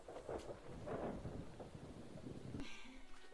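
Anime-style typhoon effect: broad rumbling storm noise of driving rain and wind, with a sharp crack of thunder near the end, loud and continuous throughout.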